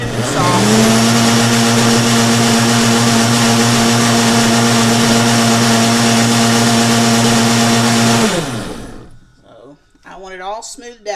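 A Ninja blender whirs loudly and steadily, blending homemade BBQ sauce for about eight seconds, then spins down; afterward a voice speaks over the quiet.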